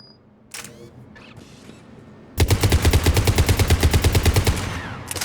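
A rapid burst of ADAS anti-synthetic rifle fire in Mass Effect 3, sharp repeated shots in a fast even rhythm, loud and close, after a few quieter game sounds.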